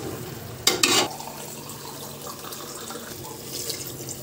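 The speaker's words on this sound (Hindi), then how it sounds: "अब मैं जा रहा हूँ इसमें पानी ऐड कर देने वाला हूँ।" Water is poured into a pan of cooking chicken, making a brief splashing gush followed by a low, steady simmering sizzle.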